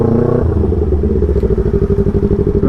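A rattling motorcycle being ridden, its engine chugging in a steady loud rhythm with clattering, drum-like knocks throughout, close and continuous with no talk.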